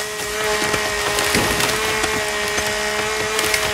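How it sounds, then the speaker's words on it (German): A chainsaw fells trees in the survival video game The Forest, with a steady, loud buzzing drone broken by woody cracks and splintering. "Fangen wir hier direkt an, die alle abzuholzen, machen wir, ne? Kettensäge."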